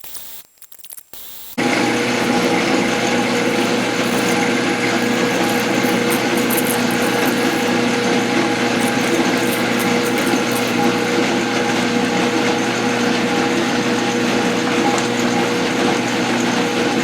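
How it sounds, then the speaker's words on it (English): A metal lathe turns a thumb screw while a parting tool relieves the area behind its flange, giving a steady grinding mechanical whir that starts abruptly after a brief quiet moment and runs loud and close to the end. "I'm relieving it with this parting tool because I can get right up behind the flange."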